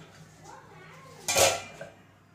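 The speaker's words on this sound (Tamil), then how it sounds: "சட்டி சூடாக வைக்கலாம்" A cooking pan set down on a stove, a single loud metallic clank in the middle of a short quiet stretch, close by, with faint household sounds around it.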